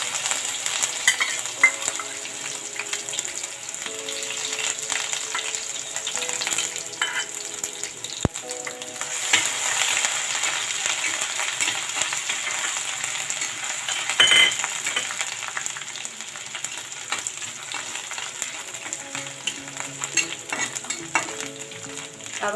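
Ginger-garlic paste sizzles and fries steadily in a hot pan for shahi paneer, with occasional stirring and light clinks of a utensil against the metal throughout, and no talking.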